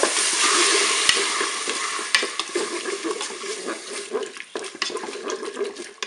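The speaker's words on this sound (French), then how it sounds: "Je vais pouvoir ajouter mes champignons" Mushrooms and golden-browned onions frying and being stirred in a Cookeo multicooker, a steady close sizzle with scraping stir strokes and occasional utensil knocks throughout.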